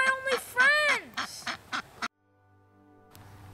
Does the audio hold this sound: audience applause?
no